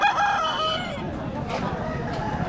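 A rooster at a rural market in Bastar, Dantewada, crows once nearby at moderate volume, with faint market background and clucking after.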